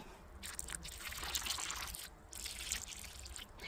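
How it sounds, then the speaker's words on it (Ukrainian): Water pours and trickles into freshly dug planting holes in soil in a garden box, a close, continuous splashing and gurgling that lasts a few seconds with brief dips. "Тепер я їх пролью водичкою."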